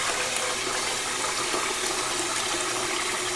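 Sausage casing soaking and being worked by hand in a bowl of warm water, a steady close wash of sloshing and trickling water with no talk, for homemade British beef bangers.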